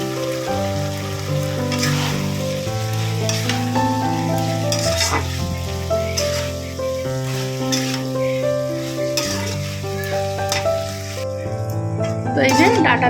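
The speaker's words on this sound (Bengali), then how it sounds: "চলো এবারে ডাঁটাগুলো দিয়ে কষাই।" Stalks frying and being stirred in a pan with potato and fish, a continuous loud sizzle with scraping stirs and clinks of the utensil, under steady background music.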